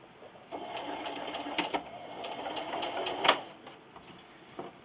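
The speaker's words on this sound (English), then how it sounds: "And just keep sewing." A sewing machine runs a steady straight stitch through a fabric popcorn bag, whirring close and moderately loud with short pauses and a sharp click midway.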